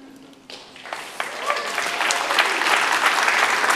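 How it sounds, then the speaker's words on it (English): Keynote audience applause building from a quiet hall, with a few scattered claps at first and then a loud, dense wave of clapping that keeps growing. "You're gonna have to clap for like 30 seconds"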